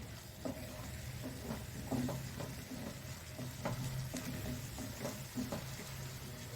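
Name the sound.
palak paneer spinach being stirred while frying and spattering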